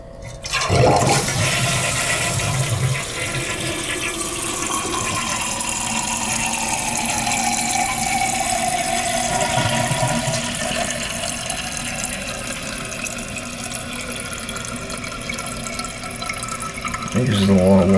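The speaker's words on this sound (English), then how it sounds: "It uses a lot of water to flush with," An old Kohler toilet flushes with a loud, sustained rush of water that fills the whole stretch, gurgling and refilling steadily, with a brief clunk at the start and another near the end.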